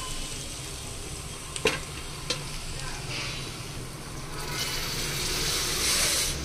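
Cabbage palya frying in a pan at home, with a steady close sizzle and hiss, a couple of sharp utensil taps early on, and the sizzle swelling louder toward the end.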